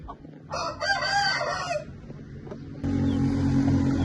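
An Aseel rooster crows once, loud and nearby, its call rising and trailing off, followed by steady background farmyard noise.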